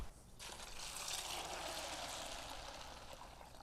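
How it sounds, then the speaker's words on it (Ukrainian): Water poured into a small bucket of fishing bait for flat feeder fishing, a steady close splashing stream starting abruptly and running on without pause. "Заливаю це все водою"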